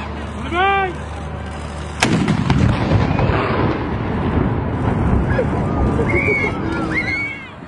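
Dubai's Ramadan iftar cannon fires a single loud, sharp blast that rolls into a long echoing rumble outdoors, with a crowd and voices around the ceremony.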